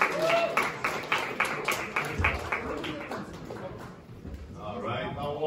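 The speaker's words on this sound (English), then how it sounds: "Give a big round of applause" Comedy club audience applauding as a comedian is introduced, a spread of claps under the host's voice, rising and falling, with talk continuing throughout.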